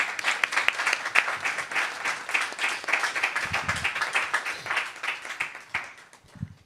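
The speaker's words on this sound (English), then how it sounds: "can the audience give our board a round of applause" An audience at a board of education work session applauds the school board with crisp, close-sounding claps that sustain for several seconds, thin out and trail away at the end.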